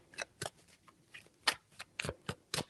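Tarot cards are shuffled by hand in a series of short, crisp riffling bursts, around eight quick flicks, close and clear with no talking over them.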